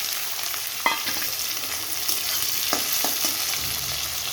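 Onions sizzle and fry in hot oil in a wok, making a steady crackling hiss with a few sharp spatters and stirring clicks, close and fairly quiet, with no talking.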